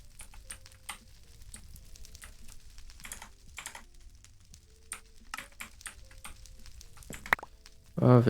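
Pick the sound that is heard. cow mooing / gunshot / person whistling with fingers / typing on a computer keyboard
typing on a computer keyboard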